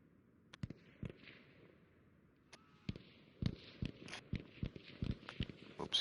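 A Model 27 revolver sidearm fired in a competitive first-person shooter match, heard as a handful of sharp, distant-sounding reports scattered among rapid clacking footsteps and other game noises, fairly quiet overall.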